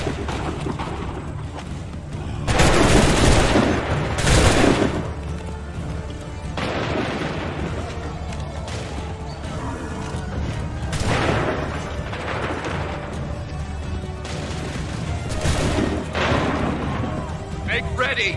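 Muskets fire in volleys in the Assassin's Creed III video game, with heavy booming bursts rising over ongoing battle noise and shouted voices, loud and repeated at intervals.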